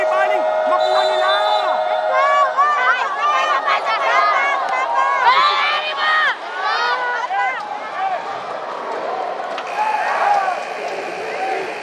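Benildian crowd at the NCAA Season 100 women's volleyball finals against Letran, a steady loud roar of cheering and chatter from a packed arena with whistles and shouts running throughout.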